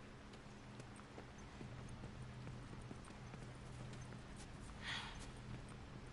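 A horse's hooves clip-clop at a steady walking rhythm in The Last of Us: Left Behind, quiet and continuous under low ambient game sound, with a brief softer rustle near the end.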